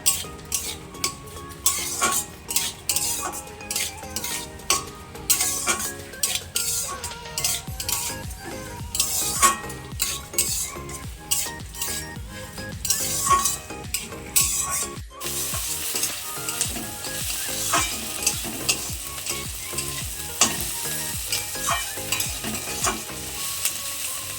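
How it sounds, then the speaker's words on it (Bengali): Mustard paste being stirred and fried in a pan for a Bengali home-cooked dish: steady sizzling under continual scraping and clinking of a utensil against the pan, with no talk. "সর্ষে আমি এটাকে একটু ভালো করে নেড়ে চেড়ে একটু ভেজে নেব"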